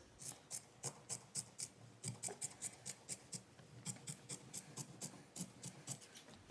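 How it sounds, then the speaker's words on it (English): Scissors trim quilt batting along a seam line, a quiet, rhythmic run of crisp snips in quick bursts of three to five, close and soft, repeating steadily with brief pauses between groups. "you're going to come back with your scissors and I just trim right along where my seam line is"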